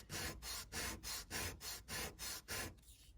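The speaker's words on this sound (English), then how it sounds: "I'm going to lightly sand it" Light hand sanding of a wooden Craftsman kit piece held at an angle, a soft close rasping in eight quick, even back-and-forth strokes, fading on a final weaker pass.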